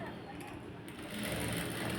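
Sewing machine running steadily while stitching a blouse, a continuous close mechanical whir that grows slightly louder partway through, with a voice speaking over it.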